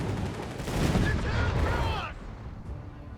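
Machine gun fire in Company of Heroes 3, a World War II strategy game, rattling as dense bursts amid battlefield noise that swell in the middle and then ease off, with talk mixed in underneath.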